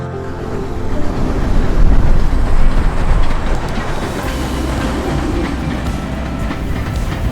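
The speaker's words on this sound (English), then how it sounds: "there was a second train due to arrive in another 15 minutes" A train arrives at a station in Hanoi, its wheels rumbling and clattering loudly close by, swelling and then easing into a steady rolling roar.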